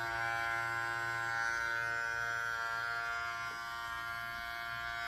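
An Andis Master Black Label hair clipper runs steadily and close, giving a continuous even electric buzz with rich harmonics and no speech.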